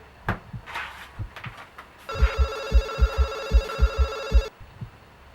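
A telephone rings in a bright electronic trill lasting about two and a half seconds, loud and close, with rhythmic low thuds underneath and quiet gaps before and after.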